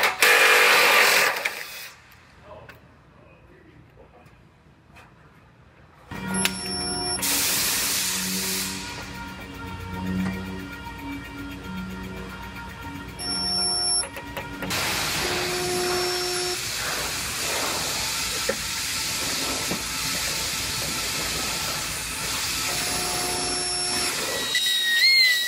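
Welding on a rail cut into a Subaru Outback body: a loud, continuous hissing buzz with brief pauses between beads, close up, with no talk over it.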